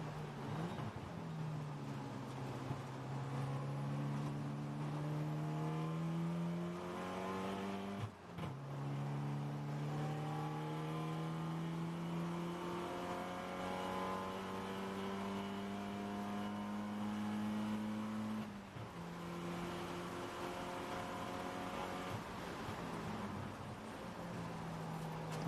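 A race car at speed on the Thunderhill circuit during an eight-hour endurance race, its engine note climbing steadily through the gears with two brief shift breaks, loud and continuous in an onboard view.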